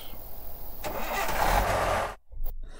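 A car engine cranks and catches in the video game Thief Simulator, rising into a loud, close starting roar before cutting off abruptly, followed by a brief electronic blip.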